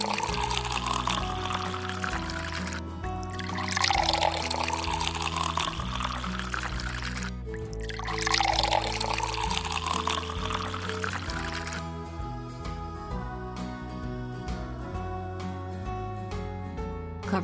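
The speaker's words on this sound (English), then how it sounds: "Fill it with hot water." Hot water poured into an InstaCuppa tea strainer bottle, a continuous gurgling stream lasting many seconds with brief surges, close and fairly loud over faint background music.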